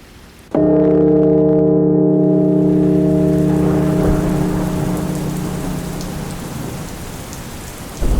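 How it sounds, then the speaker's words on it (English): A wild storm with heavy rain and a long rolling crack of thunder, loud and close; the thunder rumbles and slowly fades over several seconds while the downpour hisses steadily underneath. "'Tis a wild night. Come out of the storm."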